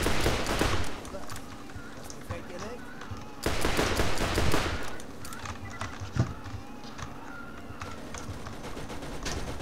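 Revolver gunfire in Borderlands: a few sharp shots ring out amid game effects and a busy mix, heard under a talking voice.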